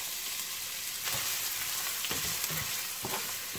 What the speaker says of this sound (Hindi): यहाँ पर मैं ये चॉप्ड ऑनियन जो मैंने आपको दिखाया था मैं ये शामिल कर दूंगा